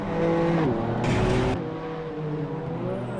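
A race car in the Assetto Corsa Evo game holds a loud, steady engine drone as it overtakes, the pitch shifting through a burst of rushing noise before settling into a lower sustained tone.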